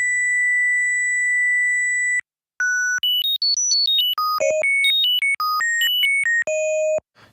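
Pure electronic oscillator tones from a Studiologic Sledge wavetable: a steady held note, then a quick sequence of bright stepping pitches jumping up and down, clean and loud with no voices.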